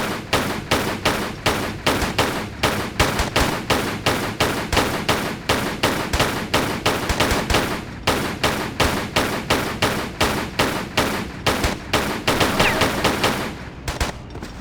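A guard fires on the player in the Tomb Raider video game: a long, steady stream of rapid gunshots, loud and close, briefly pausing near the middle and trailing off at the end.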